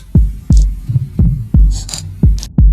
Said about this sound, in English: the wild beating of her heart betrayed her